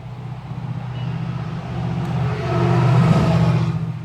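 A Toyota Dyna truck engine idles steadily through its newly fitted muffler, close by, with a low even rumble that rises slightly toward the end and no talk.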